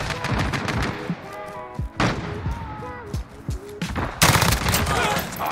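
Rapid automatic bursts from an M4A1 rifle in Modern Warfare crack loudly and close, in short volleys separated by brief pauses, with someone talking over the shots between bursts.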